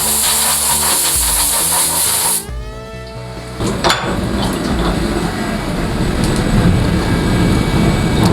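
CNC machine running a chamfer tool around part edges and bolt holes, first a loud whining spindle tone with layered harmonics, which drops away abruptly and is replaced by a steady broadband cutting and coolant hiss.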